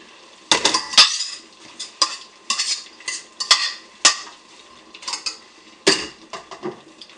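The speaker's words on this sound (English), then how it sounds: "I'm going to stir this and I'm going to chuck the pasta sauce in." A utensil scrapes and clanks against a pan while stirring on a stove turned up to 8, with the pasta sauce going in. The knocks come in irregular bursts, close and clear, with no talking.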